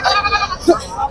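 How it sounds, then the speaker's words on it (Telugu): Goats bleat at a busy rural livestock market, a couple of short nasal calls standing out close by against a background of voices. "ఇవి వచ్చేసి మేకలు ఉన్నాయి ఇక్కడ"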